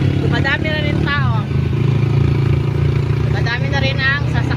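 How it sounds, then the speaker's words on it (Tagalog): Busy street traffic at the Pasig boundary in the Philippines: a constant hum of cars and motorcycles with engines idling and revving close by, under people talking. "Traffic, guys. Maraming sasakyan ng tao."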